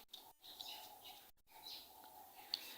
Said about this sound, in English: I'm not sure if you can hear the birds every now and then singing here in the background.